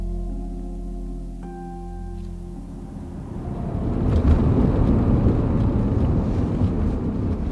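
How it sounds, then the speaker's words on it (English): A 1948 de Havilland Beaver floatplane flies over remote Nunavut wilderness, its piston engine droning steadily. The sound shifts from a tonal hum into a louder, rougher roar with wind rush that fills the cabin. "we were off to the floatplane base for a 350-kilometer flight on this 1948 de Havilland Beaver"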